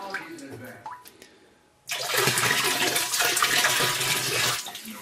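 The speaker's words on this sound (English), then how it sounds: "this is the water going in" Faint movement and a voice at first, then water suddenly gushes in loudly and keeps pouring steadily in a rushing, splashing stream.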